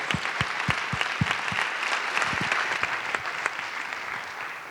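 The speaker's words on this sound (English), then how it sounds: "you deserve a round of applause" A conference audience applauds with dense, steady clapping from many hands that fills the room and stays even throughout.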